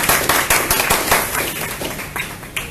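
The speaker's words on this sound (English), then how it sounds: "please give Jennifer a big, big, big, big round of applause." Crowd at a Green Drinks KL gathering gives a speaker a round of applause, loud close clapping from many hands, strongest at the start and gradually thinning out, with no talk over it.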